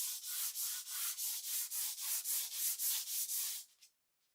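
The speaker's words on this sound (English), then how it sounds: "I used a 320 sandpaper along with a block, and I just sanded it until it was super" A block wrapped in 320-grit sandpaper rubs over a painted coat. About a dozen even back-and-forth strokes come close and clear in a steady rhythm, then stop, with no talking.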